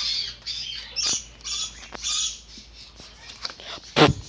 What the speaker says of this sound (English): That bird just barked.